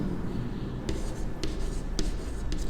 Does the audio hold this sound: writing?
yes